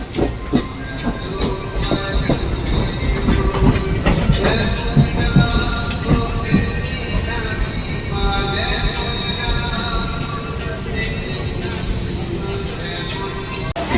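A local train on the Sealdah division rolls into Ichhapur station with a steady rumble, rattling carriages and clacking wheels. Scattered metallic squeals and clanks sound over a continuous, fairly loud roar.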